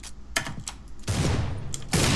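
Desert Eagle pistol shots in a Counter-Strike match, a few sharp loud cracks in quick bursts over a dense, noisy game background, with no voices.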